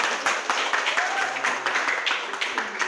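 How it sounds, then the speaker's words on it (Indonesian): Children in a classroom clapping together in a dense, steady patter of applause that fills the space, with scattered young voices mixed in. "Yuk tepuk tangan dulu"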